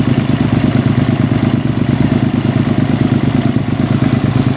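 A 2005 Suzuki SV650 motorcycle engine runs close and loud at a steady, held speed, a dense, even drone with a constant throbbing pulse and no pauses for the whole stretch.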